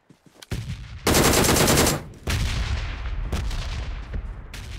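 Loud bursts of automatic gunfire from the mobile battle-royale game PUBG Mobile, a dense one-second volley followed by continued rapid shots and sporadic cracks, with no talk over them.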